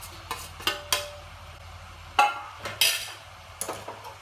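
Spicy mince meat with melting cheese being stirred in a pan, a spoon scraping and clinking against the metal in several sharp, irregular knocks over a low steady hum.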